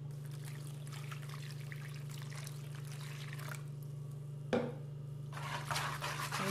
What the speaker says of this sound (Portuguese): Aqui temos 400 ml de água morna.